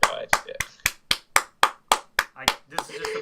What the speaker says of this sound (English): This is just applause.